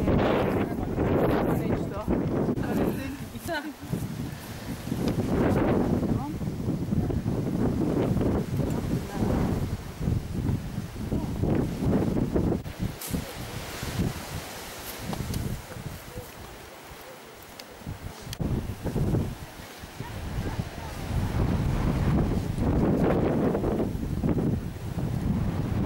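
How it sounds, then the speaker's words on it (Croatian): A strong bora wind on a mountain near Platak buffets the microphone with loud, continuous roaring gusts, while a person talks intermittently under the wind. "Prilično dere bura ovdje gore."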